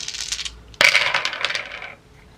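Small astrology dice rattled and dropped onto a surface, a brief shake followed by a sharp clatter and a few quick tumbling clicks settling within about a second, close and clear with no talk.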